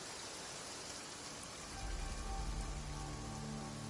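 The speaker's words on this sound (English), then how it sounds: "I love listening to the rain from the courtyard" Steady rain falling in a courtyard in the video game Genshin Impact, a continuous dense hiss that swells slightly louder partway through, with no voices.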